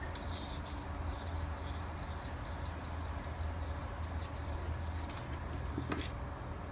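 A Cold Steel Broken Skull knife is drawn across a 400 grit sharpening stone in a steady series of about a dozen rhythmic rasping strokes, close and fairly quiet, ending with a single sharper scrape.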